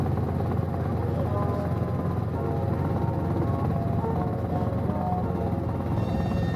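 A Robinson R22 helicopter in flight over Alaska, its rotor thumping in a continuous close, loud drone with a whining mechanical hum layered on top.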